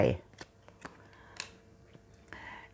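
Tarot cards being shuffled and drawn, a quick riffle up close followed by several soft, scattered card flicks and slides, quiet and sparse.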